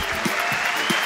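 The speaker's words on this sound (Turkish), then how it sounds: "çok büyük bir alkış rica ediyorum" Studio audience applause during a Turkish television music show, a steady broadband wash of clapping filling the short moment at an even level.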